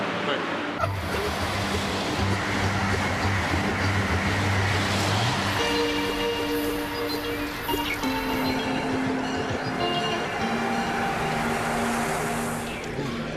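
Riding a train, a continuous rolling rumble fills the carriage, with whining tones that rise and shift as it moves. Faint voices may sit underneath.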